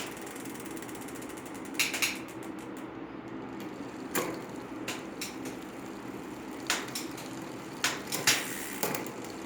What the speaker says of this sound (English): we got the derailleur to actuate. It's doing a little bit of skipping here on this low gear